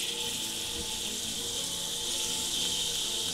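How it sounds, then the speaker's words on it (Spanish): Pork belly with the skin on frying in a pan as the base for a dried-potato soup, giving a dense, steady crackling sizzle with no break and no voices. "Sonido, ¿eh? Está friendo."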